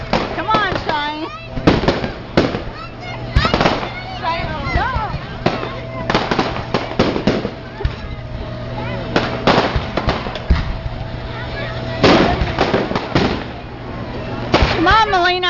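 Fireworks going off at an outdoor display, a rapid irregular series of sharp bangs and crackles, some near and loud, while people talk and shout over them.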